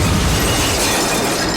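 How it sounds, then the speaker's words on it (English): A motorbike, a BMW, smashes through the tinted glass facade of a convention center in a loud, dense burst of crashing noise and shattering glass that fills the whole short moment, close and forceful. "The BMW sailed through the tinted glass facade of the Jacob Javits Center"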